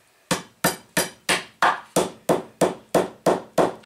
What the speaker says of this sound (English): put the speed nut on the end of the axle, and I'm going to use a rubber mallet to pound it down.